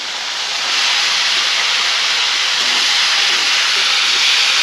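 Bitter gourd goes into hot tomato gravy, giving a loud, continuous sizzling hiss that swells in the first second and then holds steady, close to the pan, with no talking.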